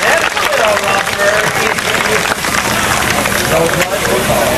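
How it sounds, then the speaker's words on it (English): A crowd applauds for Brian Kimball, 1992 world champion, at a 1993 RC car race, a continuous, loud wash of clapping and crowd noise with some voices mixed underneath. "Give him a big round of applause."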